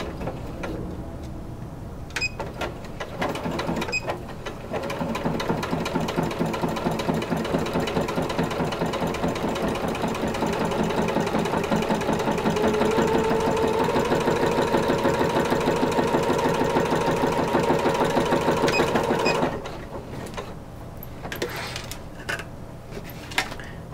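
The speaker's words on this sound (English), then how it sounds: "now I'm going to stitch a line parallel to it" A sewing machine stitching a corset bone casing runs in a fast, even mechanical chatter for about fifteen seconds, close and steady, with brief starts and stops and quieter handling before and after.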